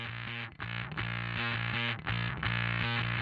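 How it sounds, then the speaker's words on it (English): Heavily distorted electric guitar plays chugging, sustained chords with brief gaps, loud, buzzing and saturated. "So that's just the distortion."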